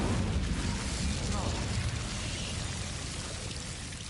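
Incendio fire spell cast in the video game Hogwarts Legacy, a dense rushing whoosh of flame with a low boom at the start that slowly fades, with a voice speaking over it.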